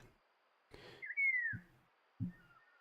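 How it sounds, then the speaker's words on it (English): A single clear whistle sounds in the hunting game Way of the Hunter. The note glides downward and is fairly loud, framed by a few soft thuds and footsteps, with no talking. "I want to know what that whistle is."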